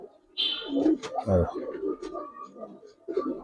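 Giribaz and coloured pigeons coo in a short, moderately loud burst alongside other bird calls, with someone talking over them.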